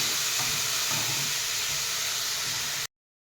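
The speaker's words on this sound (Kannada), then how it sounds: "ಚೆನ್ನಾಗಿ ಒಂದು ಸಲ ಮಿಕ್ಸ್ ಮಾಡಿ ಒಗ್ಗರಣೆ ಜೊತೆಗೆ." Horse gram and bottle gourd stirred into a sizzling tempering in a pan, with a continuous bright frying hiss and soft scraping stir strokes near the start.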